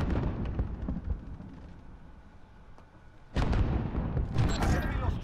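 A grenade blast in Call of Duty Warzone on Rebirth Island hits as a sudden loud burst past the midpoint, followed by ringing debris and gunfire-like crackle, while players talk quietly over the game sounds before it.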